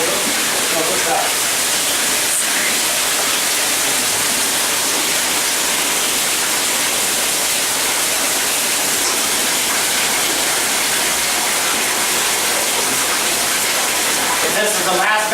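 Bathtub filling from a running tap in a care facility: a loud, steady rush of water pouring continuously, broad and hissing like a small waterfall, with no talking over it.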